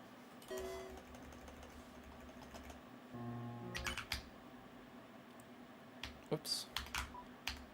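Faint, irregular bursts of clicking keystrokes on a computer keyboard during gameplay, quiet and close, with brief pauses between the flurries and a low steady hum underneath.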